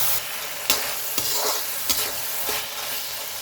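Veg noodles with tomato paste are stirred in a hot pan, giving a steady sizzle broken by repeated scraping strokes of the spoon at an irregular pace, close and clear, with no voices.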